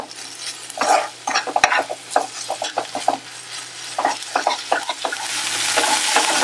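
Onions sizzle in a pan while being stirred for Hyderabadi mirchi ka salan, with repeated scrapes and clinks of a spoon against the metal and a frying hiss that builds toward the end.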